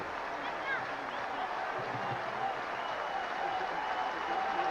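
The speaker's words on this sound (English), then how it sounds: "the crowd begins to show its appreciation for the fine night's work of Mark Leiter" A baseball crowd at a Padres vs Phillies game in 1997 applauds pitcher Mark Leiter, a steady distant wash of clapping and cheering with faint whistles and a broadcast voice underneath.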